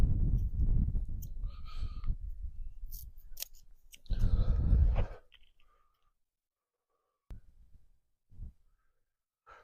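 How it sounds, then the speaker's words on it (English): Rope being cut during an experimental archaeology session at a long barrow, a few crisp snipping clicks over rustling handling noise, then brief isolated cuts after a quiet pause. "we folded it 4 times and cut off 1/4"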